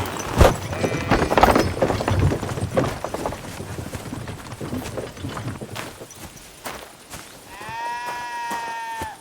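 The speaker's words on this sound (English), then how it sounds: "My, what a beautiful horse." Horse hooves clip-clop in Kingdom Come: Deliverance 2, a few uneven strikes near the start amid farmyard ambience, with bleating livestock and a brief tonal animal call toward the end.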